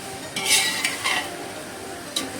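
Mutton being turned and stirred in a pot for biryani: a few short scraping, sizzling strokes of a spoon against the metal, close and fairly quiet.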